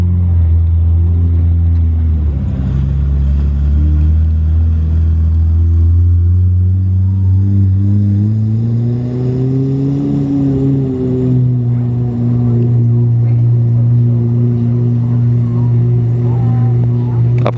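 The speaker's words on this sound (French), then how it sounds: "magnifique Pagani Zonda 760 Unica qui arrive" Pagani Zonda 760 Unica hypercar, still being run in, idles and rolls past at low speed, a deep rumbling engine note that rises and settles again without hard acceleration; a voice is heard over it.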